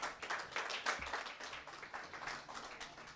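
An audience claps for a speaker, brief, steady applause of many hands from a seated crowd, fairly distant and soft, with no talking.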